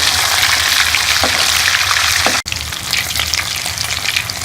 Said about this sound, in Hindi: इसको दोनों साइडों से अच्छी तरह ब्राउन कर लेंगे।